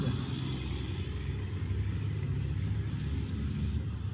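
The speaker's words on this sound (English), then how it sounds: "An 18-wheeler just went by. You could hear the exhaust." An 18-wheeler truck rolls past with a steady, heavy low rumble from its exhaust and engine. The sound stays fairly loud and even throughout, with no talking.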